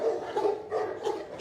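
Dogs in a kennel in a Game of Thrones scene, barking in a few rhythmic bursts at moderate distance, with a whimpering yip at the close.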